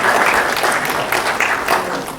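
Audience at a convention panel claps steadily for a couple of seconds, a dense, moderately loud wash of hands from a seated crowd.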